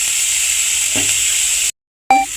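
Lentils for masoor dal sizzling in hot spiced oil make a loud, steady hiss, with a brief clatter, an abrupt silent gap, then a fresh burst of sizzle as more goes into the pan.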